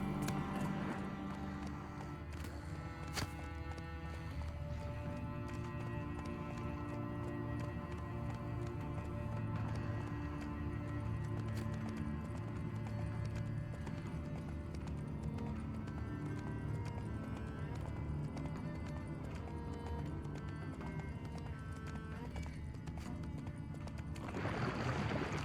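A horse trots along in The Witcher III, its hooves clip-clopping in a steady rhythm under a layered game music score, continuous and fairly quiet throughout.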